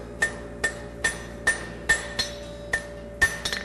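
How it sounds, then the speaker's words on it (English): A hammer rings against a horseshoe bar on an anvil's near side while a patten bar horseshoe is forged: about nine sharp, ringing metallic blows in a steady rhythm, close and loud with no talking. "I'm just going to drop my tong hand as I hit, and I'm bending away from my toe bend."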